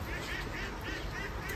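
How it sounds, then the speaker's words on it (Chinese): Ducks being fed in the morning quack in a quick run of repeated calls, fairly faint and steady over a low background rumble. "吃早餐喂鸭子"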